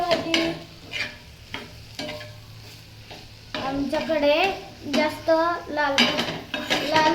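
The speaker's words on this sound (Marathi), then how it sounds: "थोडं हलवते" Bitter gourd (karela) vegetable being stirred in a pan, with clattering metal scrapes and a frying sizzle, close and prominent; a tonal whine sweeps through in the second half.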